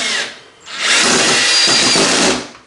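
A heavier Ryobi right angle drill drives a screw into wooden roadbed with a short burst, a pause, then a longer loud whirring run of about a second and a half, close up with no talk.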